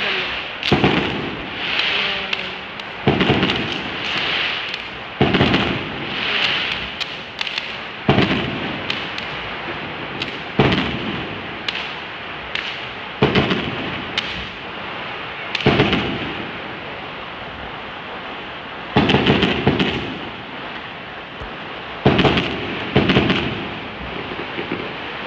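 Chinese New Year fireworks and firecrackers explode in repeated heavy booms and crackling bursts spaced every couple of seconds, loud and echoing over a continuous background rumble.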